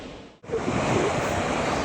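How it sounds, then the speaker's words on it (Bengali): Surf washes onto a deserted, hidden sea beach on the Odisha coast in a steady, close roar after a brief dip. No voices are heard. "নির্জন সমুদ্র সৈকত, একদম নীল নির্জনে।"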